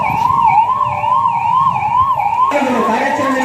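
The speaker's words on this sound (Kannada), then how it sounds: "ಆರೋಗ್ಯ ಇಲಾಖೆಯ ಆಂಬ್ಯುಲೆನ್ಸ್ಗಳು ಬಂದಿದೆ" An ambulance siren sounds during a police mock drill on a terrorist attack in KGF district, a loud, close, continuous warbling wail that switches to a different, lower wailing pattern partway through.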